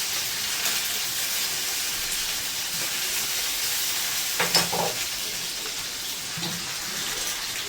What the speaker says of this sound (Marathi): कढीपत्ता आणि लसूण टाकले इथे.